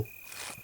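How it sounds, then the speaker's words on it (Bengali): Crickets chirp steadily in a dense jungle with bamboo thickets beside a road, a thin continuous high whine held through a brief moment, faint and distant-sounding. "ঝিঝি পোকার ডাকটা আরও তীব্র হয়ে উঠল"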